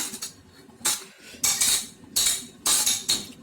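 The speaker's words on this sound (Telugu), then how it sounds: "పెరుగుని బాగా ఇట్లా కలబెట్టాలి." A spoon scrapes and clinks against a bowl while curd raita is mixed, in four or five bright bursts of stirring with short pauses between, close up and with no talk.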